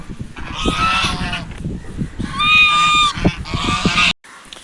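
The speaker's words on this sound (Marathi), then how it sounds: "बघू शकता बदक" Repeated nasal honking calls from ducks, loud and close, arriving in a few bursts with short pauses between.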